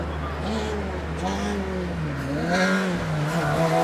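A rally car from the IRC Monte Carlo 2009 stage descends the Col de Turini. Its engine note is steady, rising and falling as it revs, and is heard under a commentator's speech.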